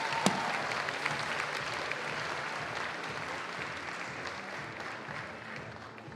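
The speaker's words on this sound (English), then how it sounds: "Big applause for them." Steady applause from a school assembly audience at a Cut For Cancer charity event, a dense even wash of clapping sustained throughout, moderately loud, with no talk over it.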